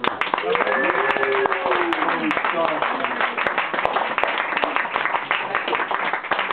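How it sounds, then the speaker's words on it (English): A gathered group in a private home gives a steady round of applause for Lawrence, the host who brought out chairs, at a 2010 Yom Yerushalayim gathering; dense clapping runs throughout, with talking over it. "round of applause for Lawrence."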